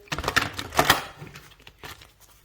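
Oracle cards riffle and snap quickly up close, a flurry of papery flicks and taps that trails off softly.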